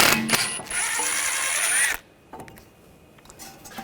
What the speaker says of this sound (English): Take this screw out, use a T30 socket.